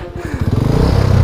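A motorcycle engine revs up hard, its throbbing pulses quickening and growing louder as the bike strains in place, stuck in a bad spot.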